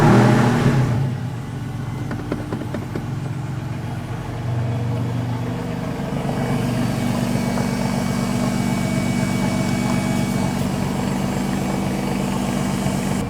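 A flood-salvage Porsche engine idles steadily nearby, a low rumbling drone with a faint high pulley whine running over it, no voices.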